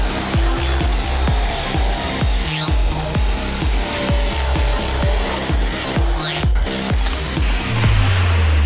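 Galvanized steel tubes being cut for a giant catapult, a loud, close, rhythmic back-and-forth sawing with harsh rasping strokes at a steady pace of about two per second, throughout.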